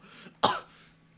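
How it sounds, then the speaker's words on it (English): A single sharp cough bursts out, close and fairly loud, after a moment of low background hum, then fades back to quiet. "I'm starting to cough"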